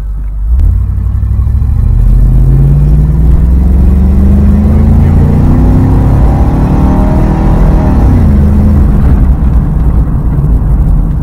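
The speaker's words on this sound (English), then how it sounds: "Sounds like it's got an exhaust leak." A truck engine with an exhaust leak roars steadily, revving up with a rising pitch and then dropping off, loud and close with a rough, rumbling tone throughout.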